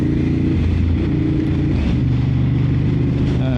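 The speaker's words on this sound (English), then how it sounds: "because it's a L-twin engine, so it does sound a little bit different than V-twin engines, slightly different" A Ducati Monster 950's L-twin engine rumbles close by at a steady idle, its low, throbbing pulse loud and continuous without revving.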